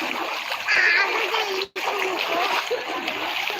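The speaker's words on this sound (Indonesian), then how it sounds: "Ini air sungai Walanai mulai meluap" Floodwater from the overflowing Walanae River splashes and rushes through a village in Cabbenge, Soppeng, as a steady nearby wash of water under people talking.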